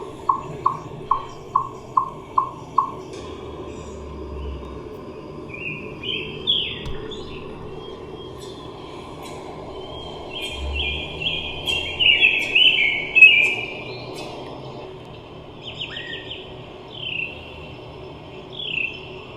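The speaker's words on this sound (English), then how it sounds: "So this is what chipmunks sound like." Recorded chipmunk calls: a quick rhythmic run of about seven sharp chips opens, followed by higher, scattered chirping trills over a quiet outdoor background, with no talk.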